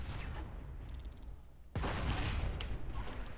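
Anti-vehicle phalanx turret in the PlanetSide 2 video game fires high explosive rounds, a loud sudden blast bursting in midway and rumbling on over dense battle noise.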